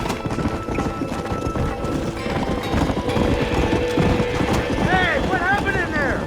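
Horses gallop in the video game Red Dead Redemption, a loud, steady, rapid clip-clop of hooves that runs throughout, with a neigh near the end.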